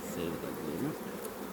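Many honeybees hum around an open hive being inspected, a close, continuous drone with slight rises and falls in pitch as individual bees pass near.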